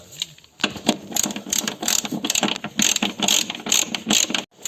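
A ratchet tightens a bolt on the rear shock absorber of a Volkswagen Golf VII, with rapid close clicking pawl strokes in quick bursts repeating for several seconds.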